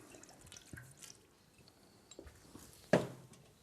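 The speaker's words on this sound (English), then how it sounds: "Adding also a little bit of water." Water drips and trickles into a florist's flower arrangement container, in soft, sparse splashes with one louder pour near the end, fairly close and quiet.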